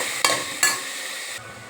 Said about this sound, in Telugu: మసాలా వేసుకున్నామండి. తిప్పుకుందాం